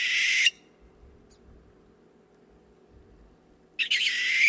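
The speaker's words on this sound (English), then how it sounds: "I hear a barn owl." A barn owl at night in a Monterey County neighborhood gives two harsh, hissing screeches, one at the start and one near the end, loud and close with near silence between.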